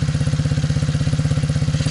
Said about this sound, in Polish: I teraz popróbuj sobie lekko dodawać gazu i odpuszczać.